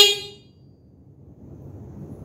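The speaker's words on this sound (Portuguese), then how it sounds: "Buzina do lado direito." One brief, sharp electronic horn toot from a Gloov Citycoco P5 electric scooter, right-side button, sounds up close, then dies away leaving a soft low background hum.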